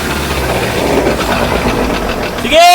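Lifted Ford Ranger drivetrain with a crushed washer in the gear, running with a loud, steady grinding and rattling roar that continues throughout before a higher whine rises at the very end.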